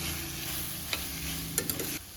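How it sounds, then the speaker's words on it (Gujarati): Bitter gourd sautéing with spices in a pressure cooker, a steady sizzle with a few scraping stirs of a spoon against the metal, close and moderately loud. "કારેલા પણ મસાલા સાથે સારી રીતે સાંતળી લઈશું"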